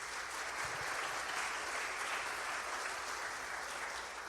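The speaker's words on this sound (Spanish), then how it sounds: "Un aplauso para ustedes por eso." A church congregation applauds steadily, a dense, even wash of clapping from many hands, fairly distant and sustained throughout with no talk over it.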